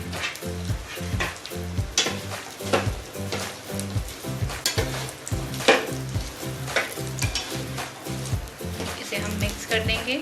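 Taro root (arvi) is stirred and fried in a pan with ajwain, turmeric and salt over low flame, giving a steady close sizzle with repeated spatula scrapes and clatters throughout, while a voice talks over it at times.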